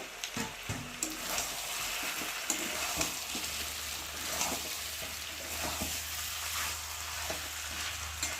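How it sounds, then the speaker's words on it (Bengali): Chicken frying in oil with previously fried potatoes and tomato added, a steady close sizzle with scraping stir strokes throughout and no talk. "এবার ভেজে রাখা আলুগুলো আর টমেটোটা দিয়ে একটু ভালো করে কষিয়ে নেব।"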